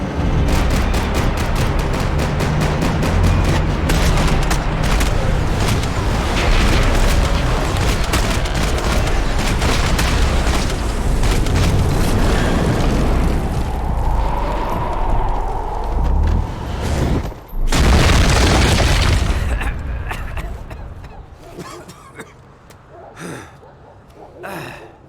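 Gunfire and explosions in the shooter game Max Payne 3, a rapid barrage of shots crackling continuously, a heavy blast near the end, then scattered shots fading into quieter moments.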